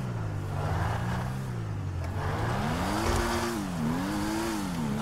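A car sliding on an oil-slicked parkour race track in GTA V Online: a steady engine drone with a wavering, rising and falling pitch under constant road noise, loud and close throughout.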